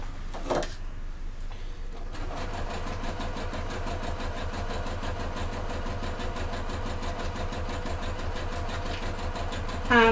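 A sewing machine stitches the lining of a fold-over clutch bag, running with a steady, fast mechanical whirr and rapid needle ticking after a brief start-up, close and continuous for several seconds.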